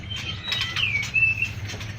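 Songbird from a songbird-keeping shop, freshly caught and restless, fluttering its wings in a steady soft patter close by, with a few thin high chirps over a low hum.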